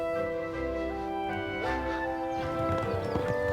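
Horses pass at a wedding, their hooves clip-clopping in a steady walking rhythm at moderate distance over a low ambient hum, with a faint whinny.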